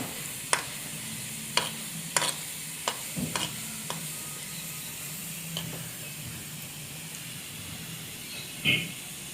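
Chopped garlic fries in about three spoons of coconut oil, a low, even sizzle with faint hiss running underneath and several sharp clicks of a spoon against the pan scattered across it.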